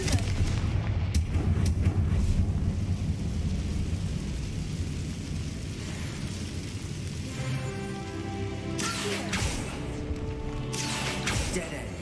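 A Confringo blast spell goes off in the Hogwarts Legacy video game, a heavy booming explosion with rumbling, noisy debris that stays loud and dense, followed by a lingering roar and fresh bursts later on.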